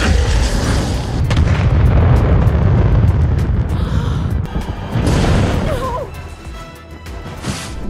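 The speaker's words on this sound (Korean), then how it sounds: "극대노한 쿠파는 왕국을 부숴버리기 시작합니다." Bowser wrecks the kingdom in the animated Mario movie: a loud, continuous barrage of crashes, booms and smashing debris, easing briefly before another burst of destruction.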